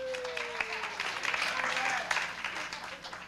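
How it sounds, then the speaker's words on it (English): Audience applause at an outdoor trail dedication ceremony honoring a family, steady clapping from a crowd that holds throughout, with a brief voice briefly heard over it. "Let's hold that applause."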